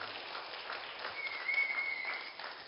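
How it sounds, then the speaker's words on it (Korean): Church congregation applauding together in a sanctuary, a soft, even wash of many hands clapping heard from a distance, steady for a few seconds with a faint tonal hum running through the middle. "우리 모든 분들을 위해서 이 시간 격려의 박수 한번 해주시면 좋겠습니다."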